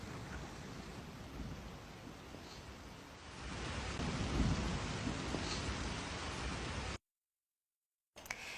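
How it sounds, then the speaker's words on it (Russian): Heavy rain driven by wind in Nalchik, Kabardino-Balkaria, a steady broadband roar that swells louder midway with low rumbling gusts, then cuts to silence before resuming briefly. "в Кабардино-Балкарии сильный дождь с ветром"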